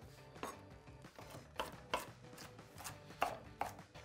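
Fresh kale being chopped on a cutting board, a run of sharp knife strikes in an uneven rhythm, close and fairly quiet with no voices.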